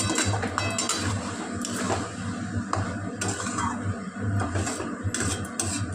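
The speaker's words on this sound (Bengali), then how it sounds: "দেখুন এইভাবে কষিয়ে নিতে হবে 2 মিনিট ধরে।" Vegetables for a vegetarian navratan curry being stir-fried in a pan, a steady dense sizzle with scraping and clinking of the spatula against the metal, continuous and close throughout.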